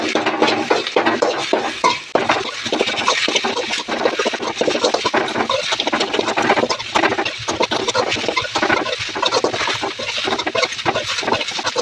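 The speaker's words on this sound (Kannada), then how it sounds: "ನೋಡಿ, ಇವಾಗ ನಾನು ಸೊಪ್ಪನ್ನ ಫ್ರೈ ಮಾಡ್ತೀನಿ." Leftover kashi greens fry in a pan with a loud, steady sizzle throughout, broken by a dense patter of crackles and occasional scrapes, with no talk.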